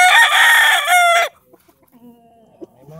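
A gamefowl stag rooster at a game farm crows loudly and close by for just over a second, then falls silent, followed by a few faint soft clucks.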